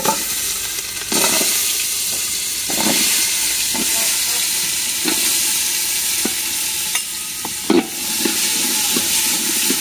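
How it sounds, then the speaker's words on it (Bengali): Vegetables, potato and carrot with salt and turmeric, sizzle loudly in soybean oil in a pot, a steady close hiss broken by repeated clanks and scrapes of stirring. "এবার তেলে দিয়ে দিব লবণ, হলুদ, সবজিগুলো কিছুক্ষণ ভেজে নেব।"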